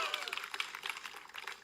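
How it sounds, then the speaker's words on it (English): Audience applause rings out for a presenter at a live crypto product announcement, a steady wash of clapping that stays fairly quiet and even throughout the short burst. "Give him a round of applause."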